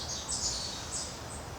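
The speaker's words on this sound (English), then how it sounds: "hear the chipmunks and squirrels running around, birds chirping." Birds chirp faintly in a backyard, with quiet high twittering calls that come and go over a soft, steady outdoor hush.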